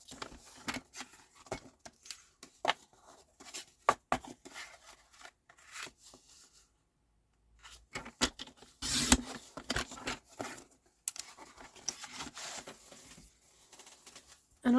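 Card stock being cut in half and trimmed for Christmas cards, a run of sharp snips and scraping rubs with irregular clicks, a brief quiet pause midway, then more cutting and handling close by.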